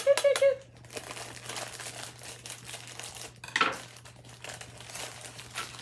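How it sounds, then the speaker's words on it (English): Plastic crinkles and rustles up close as a bag is cut open with scissors, with a few small clicks and snips, then quieter handling noises. "I'm gonna take my scissors, cut it open"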